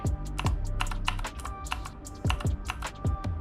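Fast, crisp typing on a mechanical keyboard, close and loud, with dense overlapping clacky keystrokes and occasional heavier key thumps throughout.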